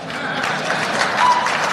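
Applause from an audience continues in a brief, steady wash of clapping, fairly loud and even, with no pause.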